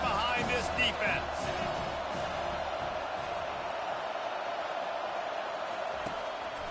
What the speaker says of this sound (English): Big third down as the crowd gets behind this defense.